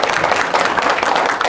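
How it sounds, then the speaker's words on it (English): Audience applause at a Church of the Nazarene children's program in Anniston, honoring a child named Andrew, a brief, dense burst of clapping from a crowd of moderate size, steady and close. "Can we get an applause for Andrew?"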